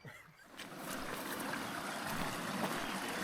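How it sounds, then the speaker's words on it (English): Continuous rushing water, a broad steady roar like a small waterfall nearby, with a brief splash at the start. "A waterfall."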